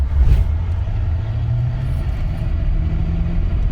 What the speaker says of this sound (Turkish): Abi şöyle bir gazlayalım abi? Hem performans görelim. Gazlıyorum abi.